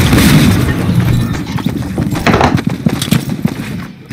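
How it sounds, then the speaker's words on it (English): The Nexus Orb exploding in the video game Fortnite: a loud booming blast that opens strongly and rumbles on with scattered crackles and bursts as it slowly fades. "in the beginning of Season X, it exploded."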